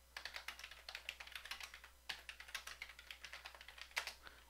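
Typing on a computer keyboard while writing a document in the Hangul word processor: a quick, continuous run of soft keystrokes with brief pauses, close and quiet, with no voices.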